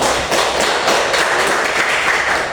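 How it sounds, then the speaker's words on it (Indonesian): A classroom group claps together after a chemistry lesson presentation, a brief dense burst of hand clapping that stays loud and steady from start to finish. "Silakan dulu kita beri tepuk tangan."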